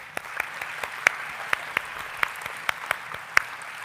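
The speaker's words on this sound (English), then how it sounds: "Big round of applause." Sparse, individual claps at a university distinguished alumni event, spaced irregularly over a soft background hum, as if only a handful of people are clapping.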